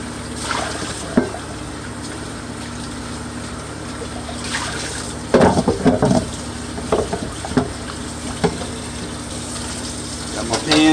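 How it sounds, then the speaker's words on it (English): Water runs in a kitchen sink while a greasy frying pan that just cooked hamburger is rinsed out, giving a steady splashing wash with louder sloshes and clanks partway through. "rinse out my pan while the hamburger is draining"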